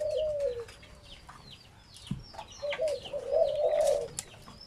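A dove coos in soft, rolling phrases nearby, while other birds chirp faintly in the background.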